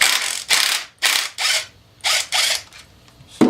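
A ratchet clicks in repeated bursts, close and loud, as a single shifter bolt is removed from a Honda CX500C engine, with short pauses between strokes and no talking.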